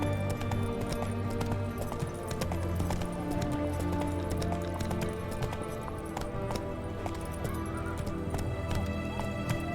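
Hooves of Roach, a horse in The Witcher 3, clip-clop in a steady gallop beneath a dense layer of game music and ambient sound, continuous and fairly loud throughout.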